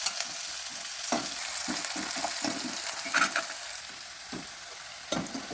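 Green garlic and garlic cloves sauté slowly in a pan, a soft sizzle broken by repeated scraping and stirring taps from a utensil, with no one speaking.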